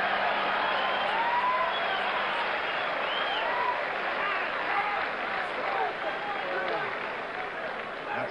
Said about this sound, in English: Oh, the crowd loving it